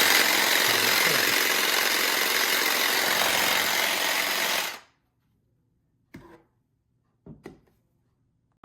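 Saker 20V cordless electric hedge trimmer running, a loud buzzing motor for several seconds that cuts off abruptly, followed by a few brief faint knocks in near silence.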